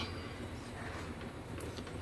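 A train rumbles past nearby, a steady broadband roar with faint metallic rattle throughout the short stretch, no voices over it.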